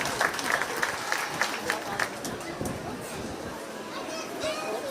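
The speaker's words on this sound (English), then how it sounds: "Let's give all those kids a big round of applause." Audience at a county fair 4-H sheep and goat show clapping for the kids, a steady moderate round of applause with scattered voices and a few louder claps near the start.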